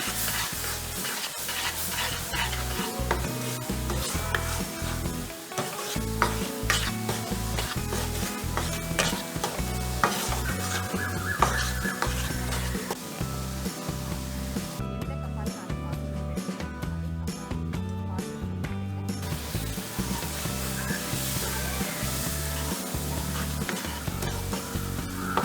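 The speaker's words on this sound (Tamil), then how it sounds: "இந்த பாலை ஒரு 3 பகுதியாக நான் கொஞ்சம் கொஞ்சமாக விட்டு கிண்டிக்கிறேன்" Moong dal stirred with milk in a pan on the stove, a continuous close scraping and stirring with sizzling underneath, steady and fairly loud throughout; no one talks.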